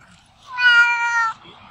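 A single clear cat meow, close and loud, lasting under a second in an otherwise quiet space.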